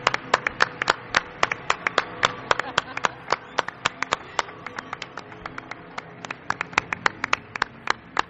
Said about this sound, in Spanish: Quiero un aplauso para él.